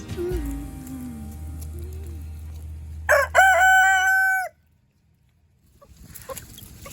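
Young pullets are near a farmyard microphone. Low murmuring clucks come first, then a loud, close crow-like call of about a second and a half, which breaks off into near silence before faint fowl sounds return.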